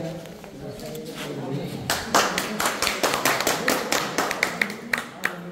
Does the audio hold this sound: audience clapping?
yes